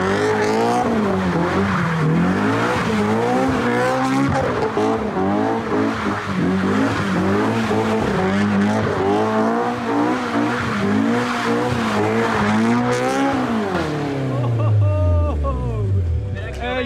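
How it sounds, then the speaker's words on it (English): A Honda S2000 drifts around a cone at a practice spot, its engine revving hard and wavering as the tires squeal almost continuously, ending with a falling engine note; loud and close throughout. "that's like my first time actually drifting a car"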